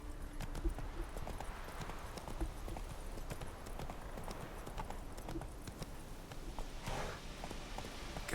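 Hooves of Roach, the horse from The Witcher 3, clip-clop in a steady rapid rhythm throughout, close and fairly loud over a busy game soundscape.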